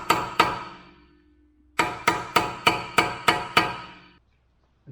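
Sharp metallic strikes of a hammer on a punch knock out the staked CV axle nut on a Subaru, two blows followed by a quick run of seven evenly spaced hits, close and loud.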